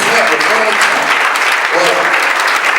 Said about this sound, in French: Est-ce qu'on peut encore l'encourager par les applaudissements?